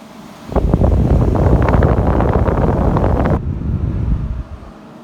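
A Germ Guardian AC9200WCA console air purifier with a brushless DC motor, switched to high, gives a loud, broad rushing airflow that starts abruptly, holds steady, then drops back to a quieter hum near the end.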